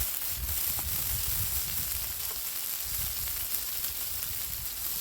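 Butter sizzling on a hot Blackstone flat-top griddle, a steady close hiss and crackle that holds evenly throughout with no talking.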